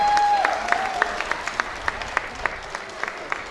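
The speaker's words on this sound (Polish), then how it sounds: "wielkie brawa i owacje dla naszych mistrzy" Applause and ovation for race winners at a local running event, a thinning round of clapping that starts dense and breaks into scattered, distinct claps, with a brief tone at the start.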